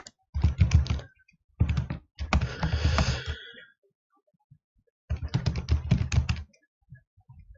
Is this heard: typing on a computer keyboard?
yes